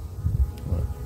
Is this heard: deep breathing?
no